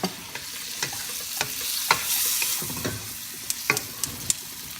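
Garlic and onions sautéing in a pan with fish sauce for pansit bihon guisado, a soft, steady sizzle broken by a few distinct scrapes and clinks of a utensil stirring. The sounds are close and fairly quiet, with no talking.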